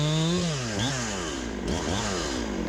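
Farmertec kit chainsaw bucking maple firewood, loud and close, its engine pitch dropping as it bogs into the cut and rising again as it revs, running continuously with no talk.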